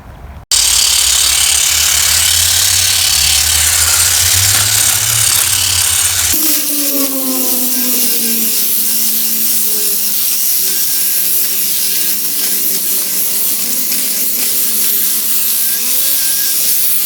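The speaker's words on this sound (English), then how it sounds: "I've been trimming now for about 33 minutes" A WILD BADGER 40v cordless pole hedge trimmer with an inverted head cuts through ground cover, its steady buzzing motor running continuously with a slight shift in tone partway through, loud and close.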